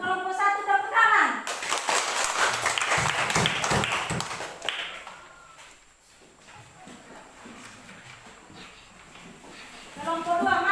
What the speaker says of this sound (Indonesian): Untuk kelompok satu tepuk tangan.